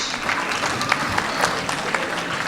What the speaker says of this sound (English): Can I have a big applause? Your hands shouldn't be stopping.